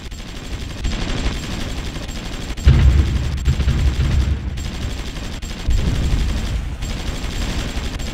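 Rapid sustained gunfire from an enemy garrison in the WWI-era strategy game Supreme Ruler Ultimate, dense overlapping shots with heavier booming bursts, loud and continuous throughout.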